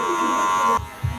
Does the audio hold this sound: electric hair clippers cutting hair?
yes